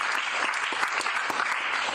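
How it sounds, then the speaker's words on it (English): Dense, loud applause fills a room at a political press conference, a continuous wash of many hands clapping with no voices over it. "So give him a round of applause"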